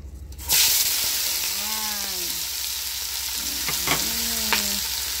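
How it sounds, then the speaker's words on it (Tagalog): Ingredients sautéing in a hot pan for a Filipino pinit-style arroz caldo, with a steady close sizzle and frying hiss that starts abruptly and continues throughout, broken by a few clinks and stirring scrapes. "So of course we gonna saute, but this is the way I do"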